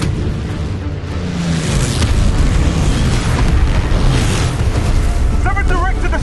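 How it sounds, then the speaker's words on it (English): Bombs dropped from a World War II aircraft explode on target as a loud, sustained rumbling roar of booms, with wind-buffeted noise and voices heard under the blasts. "Bombs away."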